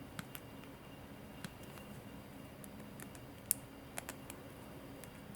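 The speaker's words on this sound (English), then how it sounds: "And now I'm going to trim." Wire ends on a wire-wrapped tree of life pendant are trimmed with cutters, giving a few faint, sharp snips and ticks spread unevenly over a quiet background.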